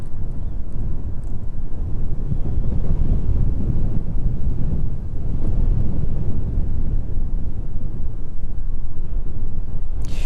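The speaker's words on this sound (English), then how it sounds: "Very, very windy where we are." Loud, blustery wind at East Midlands Airport buffets the microphone continuously, a deep roaring rumble with gusty surges and no voices.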